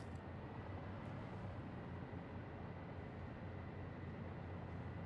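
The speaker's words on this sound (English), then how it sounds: "We have a drone." A drone in the factory-building game Satisfactory gives a steady, faint, low droning whir, a constant engine-like hum with no breaks.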